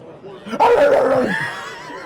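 A voice briefly imitates a dog's bark in a single gruff, rising yelp, close and loud amid noisy chatter on Super Bowl LX radio row.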